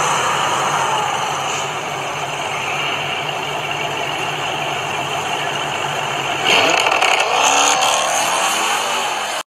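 Fuchsia pink stock Dodge SRT8 fitted with a Procharger supercharger, heard driving: a loud, steady engine roar with supercharger whine, swelling louder near the end as it accelerates, no talking.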